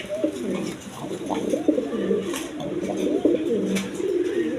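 Several large colored pigeons coo steadily at close range in a loft, their overlapping throaty calls rolling continuously with no talk.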